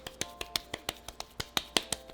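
Wet hands pat and flatten masa dough for pupusas in a quick, even rhythm. About fourteen crisp slaps come close together, each one distinct and close-up, in a quiet setting.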